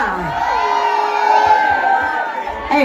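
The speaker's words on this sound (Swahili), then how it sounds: "Wapi kelele ya Githaiga?" Guests at a birthday party cheer and shout together, a loud, sustained burst of whoops and raised voices from a close crowd, continuous for the whole stretch.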